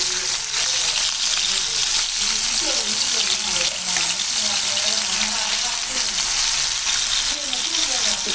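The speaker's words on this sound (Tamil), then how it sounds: "இப்போ இன்னொரு பக்கமும் நல்லா பொரிஞ்சிட்டு" Fish coated in masala fries in hot oil after being flipped to its second side, a loud, dense and unbroken sizzle close up, with no other sound standing out.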